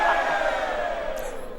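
An audience lets out a short burst of cheering and whooping that starts loud and fades quickly within a second or two.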